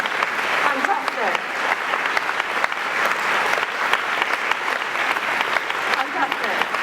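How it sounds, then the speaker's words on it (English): Sustained applause from a conference audience in Manchester thanking event volunteers, a dense steady clatter of many hands continuing at even loudness throughout, with some voices mixed in. "please could you just stand up and we'll give you a big round of applause"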